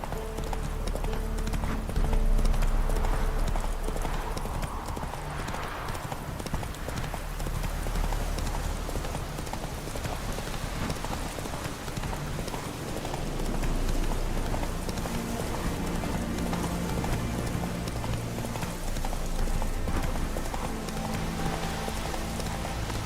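Roach, the horse in The Witcher 3: Wild Hunt, gallops with a fast, continuous beat of hooves, steady and fairly close, over a soft rain-like background hiss.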